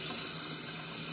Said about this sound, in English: put it under a faucet, hold it there, get a little bit of pressure, and then you see if it's coming through all of the ports